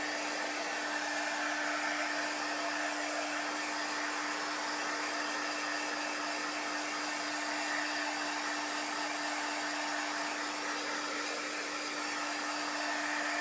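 A hair dryer blowing steadily on chalk paste during a chalk stencil craft project, a constant close whir with a strong motor hum that runs unchanged throughout.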